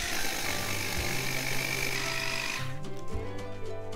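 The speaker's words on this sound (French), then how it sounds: "vous allez tout simplement mixer les biscuits spéculoos" A food processor grinds speculoos biscuits into crumbs, a loud continuous motor whir with a coarse, gritty texture that cuts out partway through, then a few short pulses follow.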